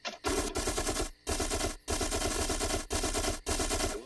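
Automatic gunfire in an animated show: several loud, rapid bursts of rounds, each lasting under a second, separated by short gaps.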